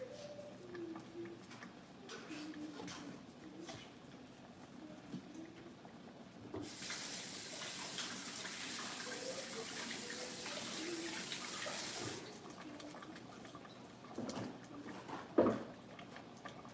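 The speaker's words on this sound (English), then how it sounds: "I'm just gonna wash my basil so I can chop that up" Tap water runs steadily into a kitchen sink while basil is washed, a soft broadband rush that starts midway and stops after several seconds, with faint birds cooing in the background.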